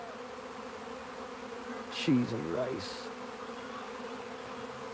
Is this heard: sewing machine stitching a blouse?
no